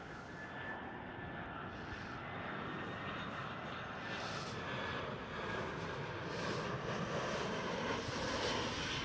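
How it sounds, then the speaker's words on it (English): An EasyJet Airbus A320 jet airliner at Amsterdam Schiphol gives off a steady, broad engine roar that holds for the whole stretch and swells slightly toward the end, sounding moderately distant. "EasyJet A320."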